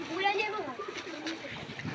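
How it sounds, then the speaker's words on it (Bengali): Pigeons coo in a soft, throaty run while moving about nearby, with light splashing and a voice briefly audible. "এই যে কবুতর, এখানে ওরা দৌড়াদৌড়ি করছে"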